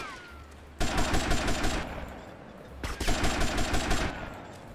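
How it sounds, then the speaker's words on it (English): Two sustained bursts of rapid automatic gunfire in GTA Vice City, each lasting about a second and a half with a pause between, loud and close with no talking. "Let's shoot the fuck out of them then"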